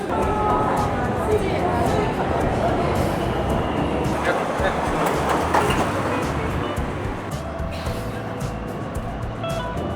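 Steady, loud rumble of a Shanghai metro train riding toward People's Square Station, a dense rolling roar with faint background chatter throughout.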